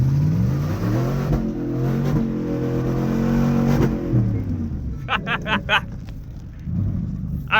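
A Ford F-150 truck prepped for racing revs its engine with a loud, rising growl that swells and drops. Then it settles to a rougher idle with a few sharp clicks, while someone talks over it.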